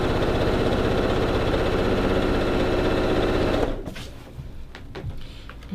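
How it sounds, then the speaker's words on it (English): Sewing machine stitching a long seam on a baby quilt, a loud steady rapid whir for nearly four seconds before stopping, followed by quiet handling clicks of fabric and pins. "So, lining this up and sewing that long seam again."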